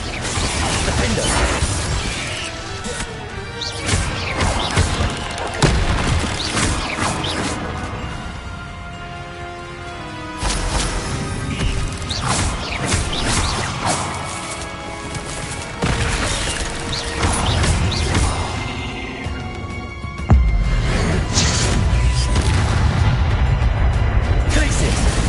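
Bombarda and Glacius spell effects from Hogwarts Legacy, loud explosive crashes, shattering bursts and mechanical clatter repeating throughout alongside game music, with a heavy low rumble building near the end.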